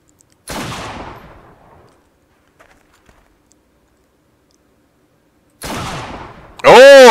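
A sniper rifle shot in the video game Heroes & Generals: two sharp gunshot reports with trailing echoes, separated by several seconds of quiet, the second followed by a loud ringing tonal burst.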